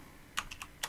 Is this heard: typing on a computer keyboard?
yes